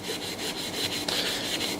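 Hand rubbing down hardwood AK rifle furniture with abrasive, close, brisk rasping strokes repeating in a quick steady rhythm, with no voices.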